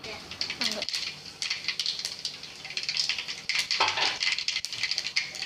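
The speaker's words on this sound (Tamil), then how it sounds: "எண்ணெய் காஞ்சி கடுகு சீரகம் வெந்தயம்லாம் நல்லா பொரிஞ்சு வந்தாச்சு" Mustard, cumin and fenugreek seeds splutter in hot oil while a spicy cluster-bean curry is being made, giving continuous close crackling and popping with sharp pops scattered throughout and no voice.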